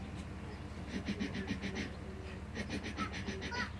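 A wildlife refuge guide imitates a tiger's chuff with his voice, two bursts of rapid, breathy, fluttering puffs close to the microphone.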